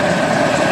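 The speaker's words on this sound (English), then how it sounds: "These Customs and Border Protections helicopters are shuttling now over and are about" Customs and Border Protection helicopters at an airport, a loud, steady rotor and engine roar filling the moment with no talk over it.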